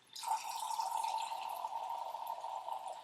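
Unscented, alcohol-free liquid splashes and pours steadily into a container for a homemade summer skincare mix, a continuous close trickle lasting a few seconds with no talking.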